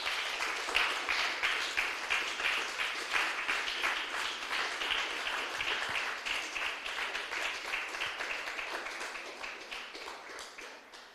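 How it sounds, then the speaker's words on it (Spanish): A church congregation gives sustained applause during a Spanish-language service, a thick, even wash of many hands clapping that gradually fades toward the end. "Denle un fuerte aplauso al Señor, aleluya."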